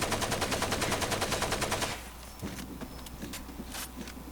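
AK-47 in Far Cry 2 emptying a full magazine, a loud, steady rapid-fire burst of evenly spaced shots lasting about two seconds, then cut off into quieter ambient rustle with a few faint clicks.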